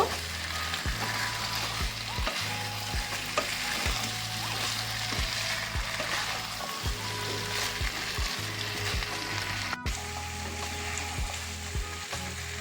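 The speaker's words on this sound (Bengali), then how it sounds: "আলুগুলো দিয়েছি একটু ভালো করে কষিয়ে নেব" Potatoes sizzle and fry steadily with spices in a pan for a vegetarian aloo dum, with intermittent scraping stirs along the way and no talking.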